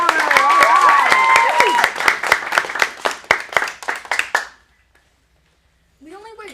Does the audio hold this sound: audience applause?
yes